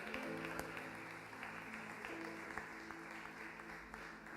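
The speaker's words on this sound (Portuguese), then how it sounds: "Vamos aplaudir o Senhor pela vida do Léo e do Zelito" A church congregation applauds during a service, a dense steady patter of many hands with a faint sustained tone beneath, heard at a distance and fairly quiet throughout, no talk over it.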